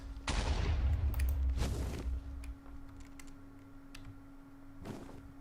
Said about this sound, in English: I heard the dragon shoot some